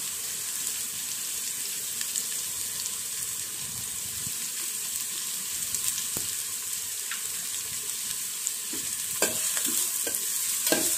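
Onions fry with a soft sizzle in a pan while a spoon stirs and scrapes at them, with a few sharper clinks toward the end.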